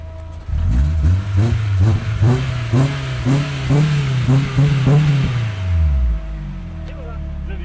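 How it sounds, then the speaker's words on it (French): A Mercedes S63 AMG's engine revs hard in a string of about eight quick throttle blips, close and loud, each rising and falling in a rhythmic pattern before settling back to a steady idle. "Je vais mettre 2-3 coups de gaz."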